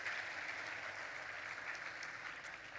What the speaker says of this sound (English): absolutely, a round of applause